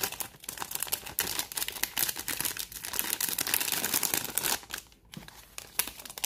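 A plastic bag crinkles and rustles up close in quick, uneven bursts, with a brief pause near the end.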